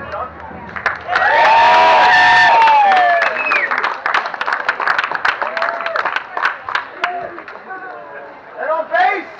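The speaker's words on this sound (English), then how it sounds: "please give a warm applause for Mr. David Duncan." An outdoor crowd at a Renaissance Faire cheers and claps for a bagpipe performer, with loud whoops and shouting voices over the clapping that swell early, then break into scattered yells.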